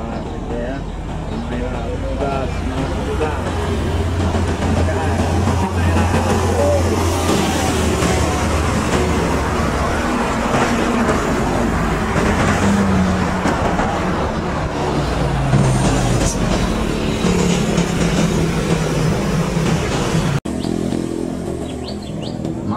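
Engine rumble and road noise from a bus passing in busy traffic on a Sumatran road, with people talking over it and birds chirping in the background.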